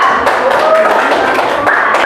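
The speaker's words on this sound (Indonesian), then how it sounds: "beri tepuk tangan untuk kelompok 2" Students in a ninth-grade classroom clap for a group after its presentation, a loud, close, steady rattle of hands from the whole room lasting the full stretch.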